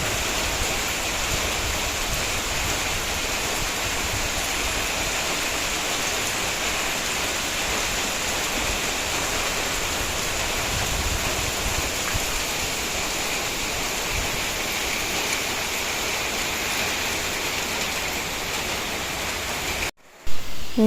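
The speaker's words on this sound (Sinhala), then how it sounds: "ඊට පස්සේ හවස් වෙලා හොඳටම වහින්න පටන් ගත්තා." Heavy evening rain pours down in a steady, dense hiss that stays even and loud throughout, with no voices, before cutting off abruptly near the end.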